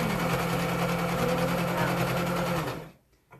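A sewing machine runs steadily, stitching over pins on a T-shirt being made into a dress, its motor whirring close and loud for nearly three seconds before stopping abruptly.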